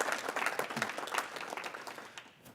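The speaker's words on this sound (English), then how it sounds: "in a round of applause for them?" Conference audience breaking into a round of applause, dense many-handed clapping that starts full and gradually thins out over a couple of seconds, moderately distant in a hall.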